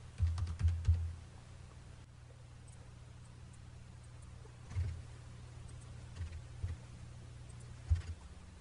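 Quiet keystrokes on a computer keyboard typing the number 2018, a quick cluster of close taps at the start followed by a few scattered single presses against a faint hum.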